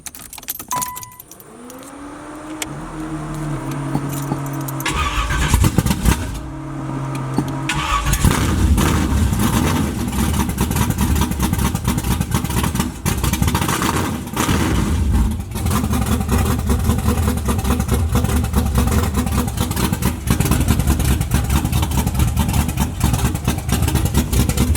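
A carbureted Chevy, the Dolo Box, runs on racing gas: keys jangle, the engine cranks and fires, then settles into a loud, steady, rumbling idle while the carburetor warms up.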